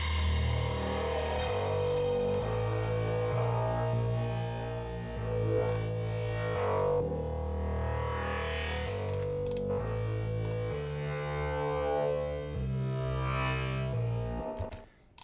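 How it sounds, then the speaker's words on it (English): A distorted, effects-laden FM synthesizer plays a shifting melodic line over a deep pulsing bass, with chorus and echo smearing the tones. "that is a synth I did design."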